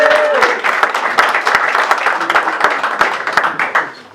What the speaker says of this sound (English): That wasn't quite as big a clap as before, but I'll do that again.